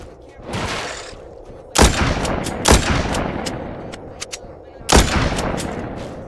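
Gunfire in The Walking Zombie 2 video game: three sharp separate shots at moderate level, spaced a second or more apart, with rumbling game ambience between them and no talk.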